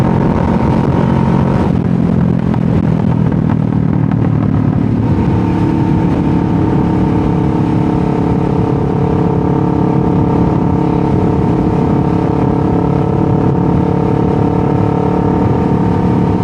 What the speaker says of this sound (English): I know you can hear my bike a lot because the mics pick up a lot of sound